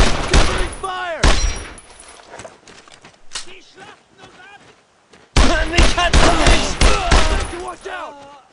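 Covering gunfire in Brothers in Arms, set in Normandy in 1944: loud, sharp bursts of rifle and automatic fire come near and close together, dropping away for a quieter stretch before a heavy burst resumes.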